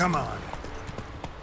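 Roach the horse gallops in the video game The Witcher 3, a quick rhythm of close hoofbeats heard under a man's brief spoken line.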